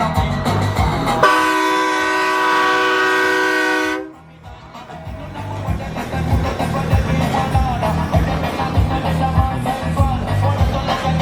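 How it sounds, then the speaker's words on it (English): A loud, sustained train horn mounted on a truck blasts for about three seconds at a truck show in Los Angeles, then cuts off into a noisy crowd and rumbling engines. "there's something about trucks, horns, and train horns that just makes you happy"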